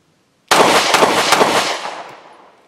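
A single sharp, loud gunshot from an FN Reflex Micro 9 pistol cracks close by, followed by a short decaying echo.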